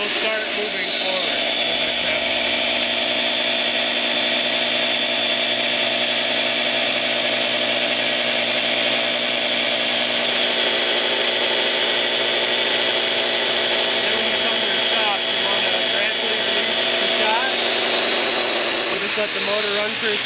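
An IMPACTS S210E shot blaster running continuously, a loud, close, steady mechanical roar with a high whine and grinding hiss of blasting throughout, unbroken and even.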